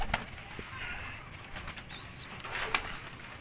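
Pigeons flap their wings in several short bursts, with faint cooing and bird calls nearby over a quiet background.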